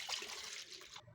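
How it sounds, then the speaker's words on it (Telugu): Hot water being poured into a cooking bowl in a home kitchen, a short faint splashing trickle lasting about a second before stopping. "ఆ గిన్నెలో హాట్ వాటర్ పోసుకోవాలి"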